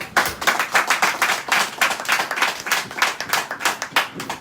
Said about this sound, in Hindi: ताली लगा दो एक बार कंपनी के लिए।